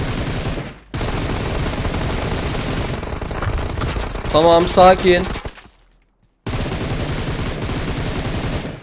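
Gunshots and bursts of automatic fire in the mobile battle royale PUBG Mobile, dense and loud with brief dropouts, mixed with someone talking.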